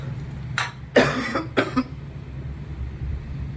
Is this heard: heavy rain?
no